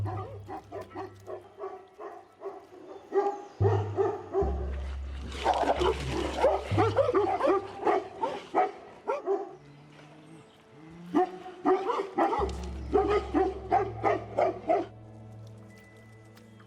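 Dogs on the Tibetan plateau bark repeatedly at a Tibetan blue bear, harassing it in rapid bursts of close, fairly loud barks with short pauses between volleys.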